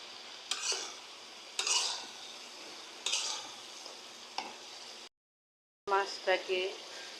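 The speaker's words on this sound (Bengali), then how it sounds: "তারপর মাছটাকে এভাবে ঢেলে একটু নাড়াচাড়া করব।" Fried fish is stirred into a turmeric and chili masala in a pan, giving repeated scraping sweeps over a gentle sizzle, then a brief silence and a voice speaking briefly near the end.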